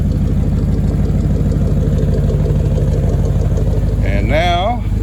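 A 1993 Dodge D150 pickup's 5.2L engine runs steadily nearby with a constant low rumble throughout, and a brief warbling whine or squeal rises near the end.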